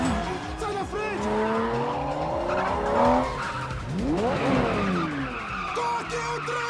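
A fast car skids during a chase, its tires squealing in long rising and falling howls over engine noise, loud and close, with voices briefly heard alongside.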